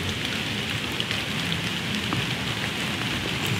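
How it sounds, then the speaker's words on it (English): Steady rain falls on forest surfaces on Texas public hunting land, a continuous close hiss scattered with small pops of individual drops, with no talking. "Starting to rain a little harder now."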